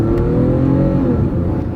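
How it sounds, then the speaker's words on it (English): A car with a V6 engine, running slightly lean, accelerates under steady throttle, giving a loud, continuous low engine drone heard from inside the vehicle. "Nobody's coming. We'll give it some gas."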